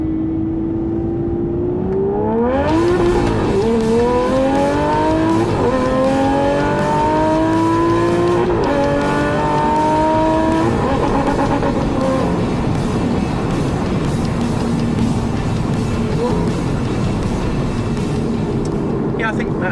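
Aston Martin V12 Vantage S, adapted for hand controls, accelerating hard at full throttle around a loop: a loud engine rising through several gear changes in stepped sweeps, then settling into a sustained roar with road noise.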